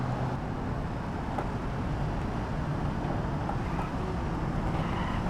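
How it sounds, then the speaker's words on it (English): An Ibushu Covet in BeamNG.drive rumbles along a rough, poorly surfaced road in third gear, with a steady, dense engine and road drone that holds at an even loudness throughout, mixed with faint bumps. "for the next test, which is like a poor quality road, we're gonna take it in third gear"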